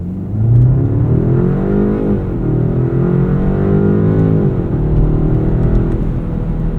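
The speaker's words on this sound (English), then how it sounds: "Let's do a little launch here." 2024 BMW 530i xDrive sedan launching from a stop, its engine revving up with rising pitch, briefly dropping at a gearshift and climbing again, loud and steady from inside the cabin.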